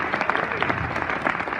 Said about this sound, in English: give another round of applause to my lovely wife